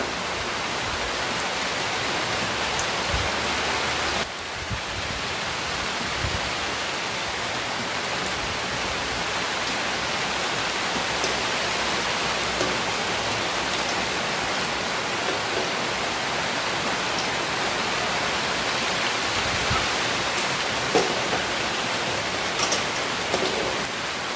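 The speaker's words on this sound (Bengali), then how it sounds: "এরকমই লাল করে আমি ভেজে তুলে নেব" Bread slices fry in hot oil in a pan, a loud, dense, continuous hiss that stays unbroken and even from start to finish, with only a few faint clicks.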